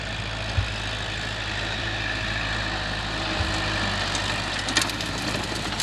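A small walk-behind tractor engine runs steadily while pulling a seeding machine to sow rice in a dry field in northeastern Thailand. The low, chugging drone holds constant, with a few brief knocks and rattles near the end.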